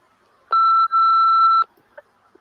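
Two close, clean electronic telephone tones lead into a voicemail: a short beep and then a longer steady one, followed by faint clicks.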